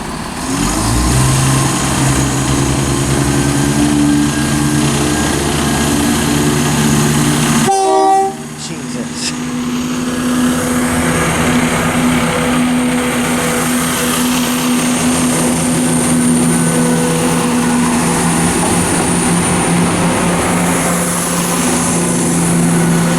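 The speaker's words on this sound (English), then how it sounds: "departing now is the 1348 West Midlands Railway service" A West Midlands Railway passenger train rumbles steadily close by at Stourbridge Junction station with droning engine tones, a brief break partway through, then the continuous rolling noise of carriages departing.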